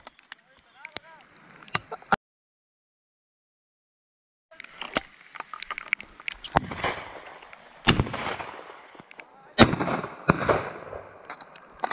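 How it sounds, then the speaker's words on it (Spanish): Sharp shotgun blasts crack out in irregular bursts during a dove hunt in Chile, some close and loud, others more distant, with people shouting in between and a quiet gap early on. "Están malos estos tiros, definitivamente los tiros de Curicó están malos."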